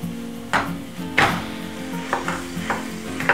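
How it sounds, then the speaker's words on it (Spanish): Ground beef being fried and stirred into a sofrito of garlic, onion and tomato in a pan, a soft background sizzle broken by several scraping stirring strokes, close-up, with no voices. "Ahora vamos a poner la carne para que se sofría."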